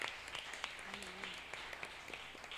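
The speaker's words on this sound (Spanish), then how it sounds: "Un aplauso para el Señor." Applause for the Lord during a church service, a spread of clapping in the congregation, fairly faint, with voices underneath.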